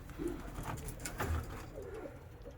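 A Mewka pigeon coos softly in a loft, a few low murmuring calls over faint background rustle.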